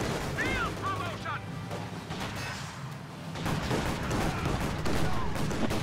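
Infantry squad gunfire bursts in a World War II strategy video game, with soldiers firing on Obersoldaten in cover and a Panzer II nearby. Rattling bursts of shots sound throughout, dense and continuous amid battlefield noise, with a voice speaking over the action.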